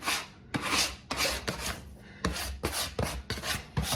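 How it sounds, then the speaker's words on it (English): Focaccia dough is scraped off a kitchen counter in a series of short, close rasping strokes, roughly eight quick scrapes with brief pauses between them. "now I'm just going to scrape up all that little bit of dough"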